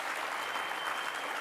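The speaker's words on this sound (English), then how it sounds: "Everyone, give me a warm round of applause for Greg being here." A warm round of applause from an audience for a speaker on world cities, brief and steady, many hands clapping together at moderate loudness.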